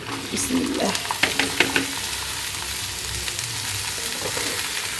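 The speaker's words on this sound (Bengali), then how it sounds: "আলু একসাথে ভাজি করব সেটা কাটা শেষ তো এখন দিয়ে দিই" Freshly cut potatoes hiss and crackle as they hit hot oil in a pan, with a few clattering knocks from stirring early on. The dense, steady sizzle stays near and continues evenly to the end.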